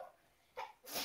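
A single sharp sneeze close by, a short intake followed by an abrupt burst, heard alone against a quiet background.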